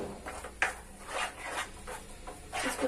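Sesame kalakand mixture stirred in a pan over a low to medium flame, producing rhythmic scraping and rubbing strokes about twice a second, close and moderately quiet, with no voices.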